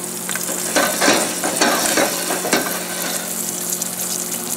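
Bronzino fillets frying skin side down in a hot pan give a steady, loud sizzle with crackling bursts and a few sharper spits, continuous throughout.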